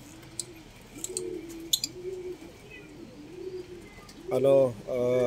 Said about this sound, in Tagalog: So yan nga yung pinakamatandang ibon dito, si Birdie